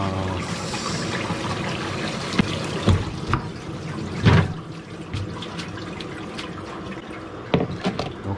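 Tap water running steadily while shrimp are rinsed outdoors before a shichirin charcoal grill barbecue, a continuous splashing stream with a few louder sloshes and knocks, close and fairly loud.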